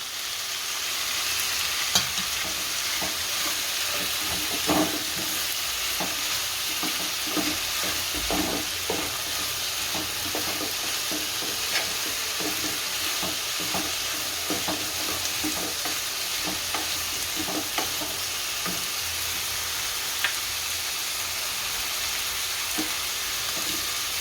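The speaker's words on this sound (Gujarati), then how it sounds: "દૂધીને હારી ભેળવી નાખશું આમાં। દૂધી ભળી ગઈ છે, આ ટમેટા નાખશું।" Bottle gourd being stirred into upma frying in a pan, with a steady sizzle under repeated scraping stir strokes throughout, close and alone with no talk.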